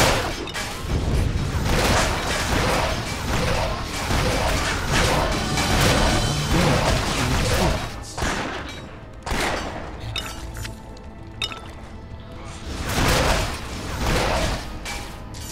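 Ricochet shot attacks in the game Torchlight, giving repeated loud crashing, shattering impacts in dense bursts with brief quieter gaps between volleys.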